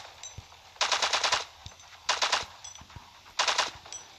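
Three rapid bursts of gunfire from a shooting mini-game in LifeAfter, each about half a second long with short gaps between them, fired at red, blue and black balloon targets.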